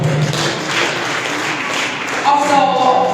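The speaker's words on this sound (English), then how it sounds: "There's a big round of applause for him." Applause from the audience at a National Youth Day role model award ceremony, with dense sustained clapping of a moderate crowd and some talk mixed in beneath.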